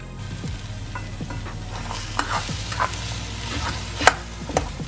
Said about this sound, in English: So we got our eggs in there frying.